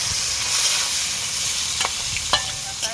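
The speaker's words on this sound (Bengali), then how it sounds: "মাছটা ভেজে নিই" Fish frying in a pan of oil for a fig curry, a steady close sizzle with a few brief sharper crackles and spatters, no talking.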